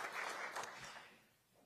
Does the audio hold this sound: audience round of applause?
yes